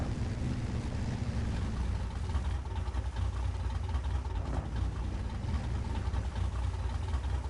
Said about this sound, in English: That engine sounds so beefy.